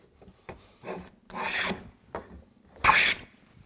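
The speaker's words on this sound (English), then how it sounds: "And now I can clean up some of the burn marks and start sanding this piece" Hand sanding of a wooden jewelry box lid piece to clean burn marks, several short rasping strokes back and forth, close and fairly quiet, with pauses between.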